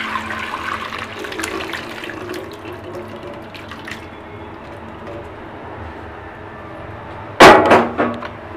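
Paneer water being poured through a cloth laid over a net while making rasgulla, a steady splashing pour that swells into a louder close gush near the end.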